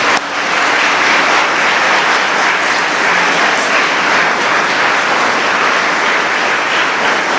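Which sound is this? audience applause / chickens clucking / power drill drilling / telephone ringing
audience applause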